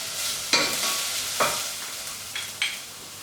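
Garlic and chili frying with onions in a pan for shakshuka, a continuous close sizzle punctuated by four distinct stirring scrapes spread across a few seconds, without speech.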